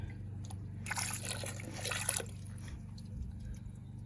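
Baking soda and water wash over sulphuric acid corrosion on a 2011 Ford Fiesta 12V battery, giving a soft fizzing splash for about a second, then quiet trickling and dripping over a low hum.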